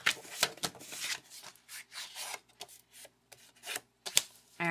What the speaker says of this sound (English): fold it in half.